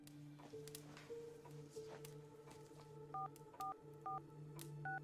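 A phone number dialed in a video game: a string of short, evenly spaced touch-tone beeps in the latter half, heard over a quiet steady background hum with some faint clicks.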